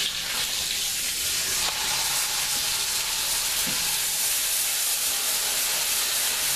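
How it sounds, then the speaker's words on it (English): Steady broadband steam hiss from tap water poured into a hot pot while making pot roast, loud and continuous throughout with no voices. "So start slow so you don't burn yourself with steam."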